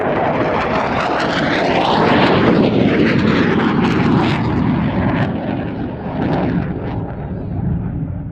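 A Rafale fighter jet flying a slow roll at an airshow gives a loud, continuous jet engine roar that rises and shifts in pitch as it passes, with no voices over it.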